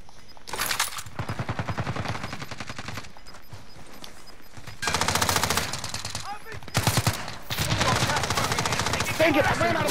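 Bursts of automatic gunfire in a shooter video game, several long rattling volleys loud and close with short gaps between them, and a voice talking over parts of the action.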